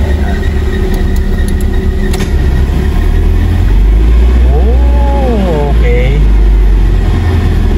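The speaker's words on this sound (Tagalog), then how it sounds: "Ang ganda na ng start eh, tapos ang ganda na ng idle." A car engine idling after a start during a servo replacement repair, a steady low rumble under continuous talk, with a brief rising and falling whine partway through.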